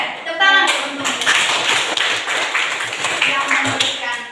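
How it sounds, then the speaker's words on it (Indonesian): A room full of people claps steadily for several seconds, with voices chattering underneath the applause. "Lalu yang berikut sudah tepuk tangan untuk"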